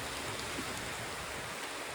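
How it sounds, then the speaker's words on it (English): Steady rain hisses and patters close by on a balcony at night, a dense even wash of droplets with no voices. "I think you do can hear the rain"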